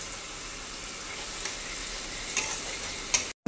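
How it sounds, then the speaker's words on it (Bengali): Chopped tomato fries in an onion, ginger and garlic spice paste, giving a steady, even sizzle with faint crackles and a few small ticks throughout. "টমেটো কুচিটা এই মশলার মধ্যে ততক্ষণ ভাজবো যতক্ষণ টমেটো কুচিগুলো নরম না হয়ে যাবে"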